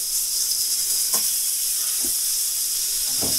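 A block of butter sizzling in a hot pan, a steady close hiss of frying with a few faint clinks of utensils.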